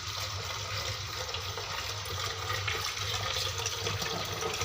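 Water runs steadily while a rusty iron kadai pan is rinsed clean, a continuous splashing, gushing wash at close range with no voices.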